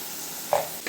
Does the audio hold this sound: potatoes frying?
yes